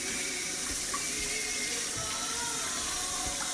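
Tap water pours steadily into a kitchen sink, a constant close splashing hiss with no pauses and no talk.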